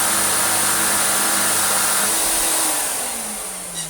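A Vax 6130SX carpet cleaner with a failing shampoo pump runs with a loud, steady motor whine and airy rush, close by, then its pitch drops slightly as it winds down near the end.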